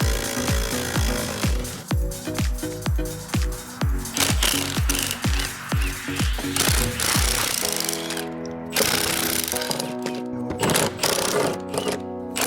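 Power tool hammering loose the drive shaft of a 2015 Ford Mustang GT, a rapid repeated impact burst that pauses and restarts about ten times, loud and close, followed by a steadier whirring run near the end.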